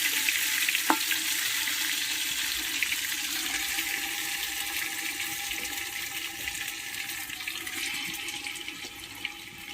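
Chicken goes into a hot handi pot of whole spices like cardamom, clove and cinnamon, giving a steady close sizzle with faint bubbling and a sharp clink near the start.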